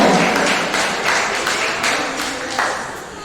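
An audience at a spelling contest held at a town hall in Kpalimé claps and cheers in a dense, lively burst, with sharper individual claps standing out through the roar of applause.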